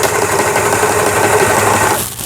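A Jaguar mini sewing machine, model 490 built for the Japanese home market, runs in reverse after repair, giving a steady, close mechanical whirr with rapid stitching clatter that stops abruptly near the end.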